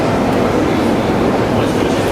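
Loud, dense rumble of a St. Petersburg metro train running deep underground through a tunnel, a continuous roar of wheels and rail noise close by, with no clear gaps.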